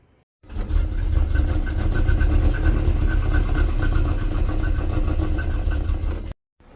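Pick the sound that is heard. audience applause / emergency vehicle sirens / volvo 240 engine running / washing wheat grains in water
volvo 240 engine running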